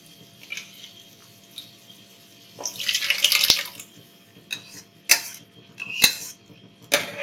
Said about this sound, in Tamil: தேவையான அளவு தண்ணி சேர்த்துக்கோங்க. தண்ணி சேர்த்துட்டேன்.